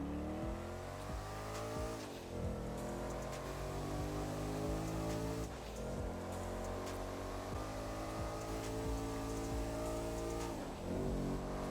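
A Baller LE SUV in GTA Online accelerates hard, its engine climbing through several rising revs with sharp drops at each gear shift, loud and close, with no talking.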